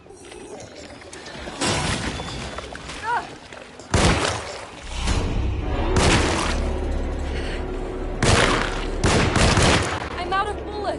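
Gunfire in the video game Alone in the Dark, several sharp loud shots in separate bursts spread across the stretch, with a voice speaking between them.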